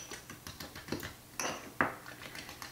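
Light clinks and scrapes of a utensil stirring an egg into keto mug cake batter, a few sharper taps on the mug standing out from the soft stirring.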